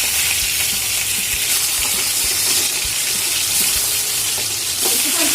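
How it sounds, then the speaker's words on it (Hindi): Rohu fish pieces sizzle steadily in hot oil over medium-high heat, a dense, loud, continuous crackle with occasional soft pops and no talking. "माछ को मीडियम टू हाई आंच रे फ्राई करेंगे"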